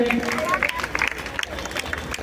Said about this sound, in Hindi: हमारी सच्ची श्रद्धांजलि तालियों के माध्यम से डॉक्टर श्यामा प्रसाद मुखर्जी को अर्पित हो।